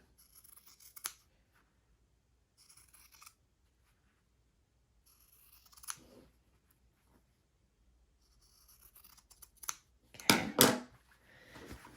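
Scissors trim fabric for a large handmade journal, with a few soft, scattered snips and rustles, then a louder burst of close cutting and handling near the end, with no talking.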